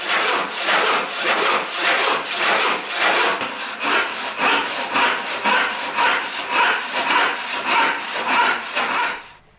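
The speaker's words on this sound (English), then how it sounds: "I've hardly started and the saw's already binding in this piece of holly" A western backless hand saw cuts holly wood in steady back-and-forth strokes, about two per second, each a rasping close-up rub that repeats evenly for nine seconds before stopping.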